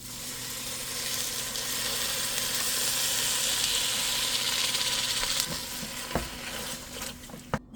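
Tomato sauce poured onto caramelized onion in a hot pan for a beef spare ribs caldereta gives a strong, continuous sizzle with stirring scrapes, fading toward the end with a few clinks of a utensil on the pan.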